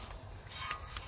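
A bristle brush scrubs a car's brake caliper in a short, faint rasping rub, two quick strokes heard close up with no voices.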